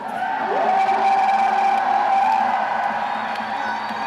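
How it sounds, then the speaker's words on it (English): A crowd cheering and whooping at a Yank-N-Yard climbing competition final, a sustained roar from a distance, with a whistle-like tone riding over it. "this crowd is so psyched"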